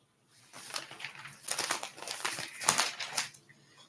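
Paper being handled and crinkled close up, a run of dry rustling and crackling bursts over about three seconds, with no talking.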